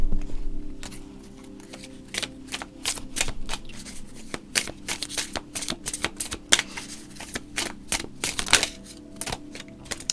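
A tarot deck shuffled by hand, rapid riffling card flutters and sharp snaps in irregular bursts, close and crisp, continuing for about ten seconds with no voices.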